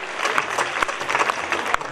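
A college audience at a drama and cultural program at GF College, Shahjahanpur, bursts into steady, dense applause for the script writer and director, a full crowd clapping close and loud throughout.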